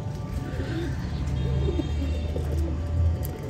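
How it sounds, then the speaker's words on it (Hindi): Racing pigeons in a loft on a cold night give soft, low, repeated coos over a steady background hum, fairly close and moderately quiet. "ये वाला जो कबूतर है ये सुस्त लग रहा है"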